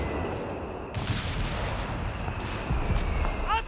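Artillery fire in Company of Heroes 3 rumbles at a distance, with sharp booming bursts breaking over a steady low battlefield din, repeated a few times.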